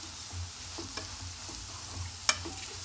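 Ivy gourd frying in a pan as turmeric is stirred in, a soft continuous sizzle with gentle scraping strokes and one sharp clink of the spoon against the pan, no talking.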